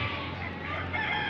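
Chickens and a rooster in a pen give brief clucking and crowing calls, faint and close, over a low steady background hum.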